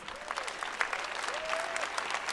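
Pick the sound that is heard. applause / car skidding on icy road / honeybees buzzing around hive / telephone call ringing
applause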